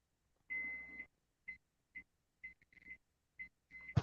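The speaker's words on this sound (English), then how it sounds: "Was that beeping on your guys' end?" Beeping from a neighbor's electronic device, a series of short steady high-pitched tones in irregular bursts, one long beep followed by several brief ones, moderately faint and with no talk over it.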